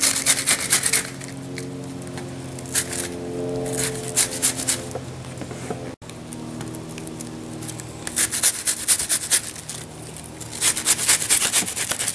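Vidalia sweet onion rubbed against a cheap hand grater over a pot of chili, with repeated rasping scrapes in uneven bursts and short pauses, close and fairly loud, no talking.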